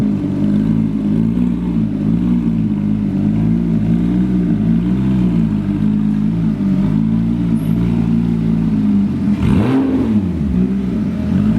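A Porsche GT3 RS holds a loud, sustained high rev through its exhaust, a steady droning wail that wavers slightly before a sharp blip and drop near the end, close and alone.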